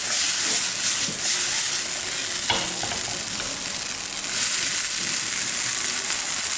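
Vegetables for quick tacos, seasoned with salt and black pepper, are stirred and fried in a pan: a loud, dense hissing sizzle throughout, broken by a sharp clack of the spatula near the middle.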